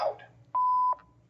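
A single clear electronic beep, a steady pure tone lasting under half a second, sounds close after a short moment of quiet.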